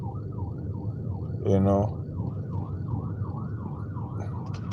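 An emergency vehicle siren passing at a distance, a steady fast warble cycling repeatedly under someone talking, with one brief louder burst of his voice partway through.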